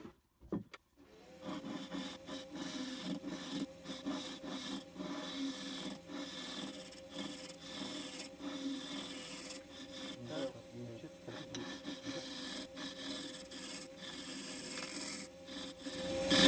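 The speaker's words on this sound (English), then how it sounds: "I'll just put some sanding sealer in there just to protect it." Sanding sealer rubbed inside a turned wooden piece gives a continuous dry rasping scrub over a steady machine hum, with brief louder scuffs throughout and no voices.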